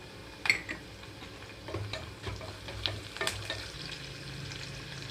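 Onions, green chillies and curry leaves fry in a pan for moong dal khichdi, a low steady sizzle under scattered clicks and scrapes of stirring, with no talk.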